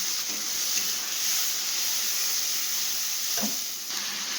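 A paste of ginger, garlic, onion and tomato sizzles hard in hot oil, a loud continuous hiss with a few stirring scrapes and no voices.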